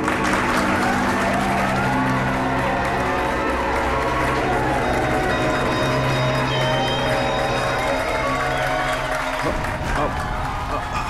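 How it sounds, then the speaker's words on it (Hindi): Audience applause at a stage magic show, clapping and crowd noise layered under a musical score, steady and loud for most of the clip before ending with a sharp hit. "तालियां!"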